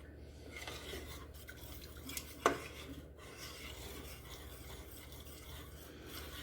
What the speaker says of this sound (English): Go ahead and stir that in.